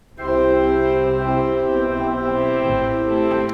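Pipe organ playing the Meistersinger Overture, with the brass section registered on a separate manual from the other voices, giving a full, sustained chord texture that swells in loud and holds steady throughout, with no talking.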